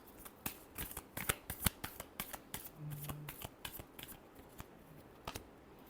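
Tarot cards shuffled in a rapid run of crisp, papery riffles and snaps, close and fairly quiet, with no speech over them.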